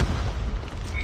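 A grenade detonates in a military shooter game, a deep booming blast with a heavy low rumble that lasts about a second, loud and close.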